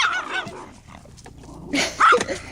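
Spike, a pet dog, gives a few sharp barks and yips up close, with a louder burst toward the end and some whimpering or snuffling sounds in between.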